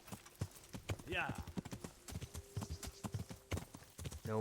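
Horse hooves clip-clop steadily in a rapid rhythm while riding in the medieval video game Kingdom Come: Deliverance, with someone talking over the hoofbeats throughout.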